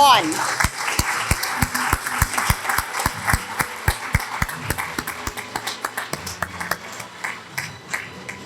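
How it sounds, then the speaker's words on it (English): A crowd at a school graduation ceremony applauds with sharp, distinct claps that gradually thin out and fade while background chatter continues. "we have one loud of applause for our graduates of 2021"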